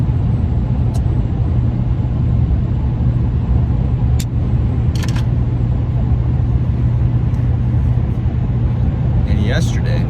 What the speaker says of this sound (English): I'm just driving back to my campground.